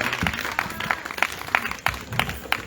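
Congregation at a night prayer vigil in the village of Djédjédigbepa near Gagnoa clapping in a steady rhythmic beat, mixed with crowd voices and acclaim, moderately loud and lively.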